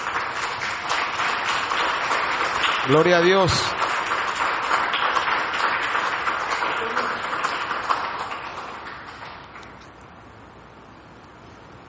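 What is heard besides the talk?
congregation applauding in church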